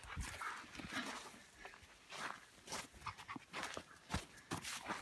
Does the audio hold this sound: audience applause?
no